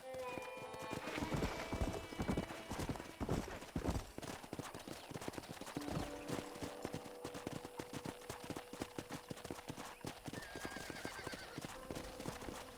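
A horse clip-clops at a steady gait through a Western town in Red Dead Redemption, hooves close and rhythmic, with a whinny and game music beneath and a character's voice over the top.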